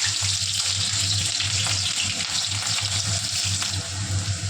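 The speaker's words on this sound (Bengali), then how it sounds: "তেলে কাঁচা লঙ্কাগুলো ভালোভাবে ভাজার পর আলুগুলো দিয়ে দিলাম।" Green chilies fry with nigella seeds in a small amount of hot oil, giving a steady, close, crackling sizzle over a low constant hum, with no talking.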